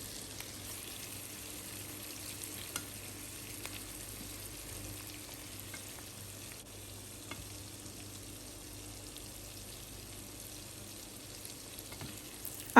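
Hilsa fish pieces sizzle and fry steadily in a pan of spiced oil, a continuous soft crackle with occasional faint stirring clicks, no voices.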